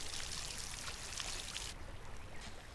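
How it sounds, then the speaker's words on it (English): Seeds in the video game Solarpunk are watered, making a continuous soft watery hiss and trickle that stays even throughout with no voices. "in order to have these seeds grow, I have to water them"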